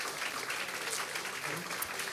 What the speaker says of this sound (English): Let's give another final applause for the 3 honorees of tonight